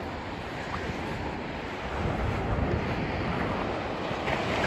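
Calm sea surf rolls steadily onto a beach at the seaside, a broad continuous wash with gusts of wind buffeting the microphone and no voices.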